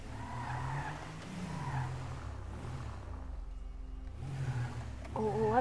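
A car in Grand Theft Auto V drives with engine drone and squealing, skidding tires that rise and fall, fairly quiet, and the noise briefly dips near the end before picking back up.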